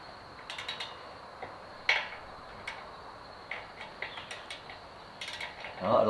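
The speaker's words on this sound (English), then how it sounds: "So I've torqued up all 8 stud bolts" A ratchet tightens flange stud bolts on the engine cylinder head of a Searey seaplane in a tight space, giving sparse, quiet clusters of sharp clicks close by.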